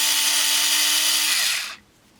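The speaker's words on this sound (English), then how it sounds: "So we're gonna test out these scissors. They're cordless." Cordless electric scissors run with a steady, fairly loud motor whir and a high whine close by, then spin down and stop after about a second and a half.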